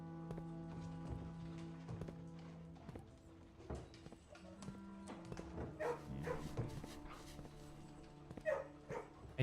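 A dog barks in the video game House of Moving Rooms, scattered short yips and barks over a few seconds, with clopping footsteps and game tones in the background.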